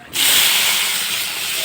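Tomatoes hit hot oil with dried chillies and set off a sudden loud, steady sizzling hiss close by that continues without a break after a brief quiet start.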